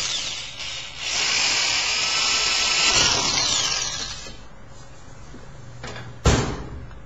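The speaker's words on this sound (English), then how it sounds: "We drill out this first hole" Electric drill with a 3/32 bit boring a hole in a metal filing cabinet: a sustained high whine for about three seconds that fades, followed by a sharp knock.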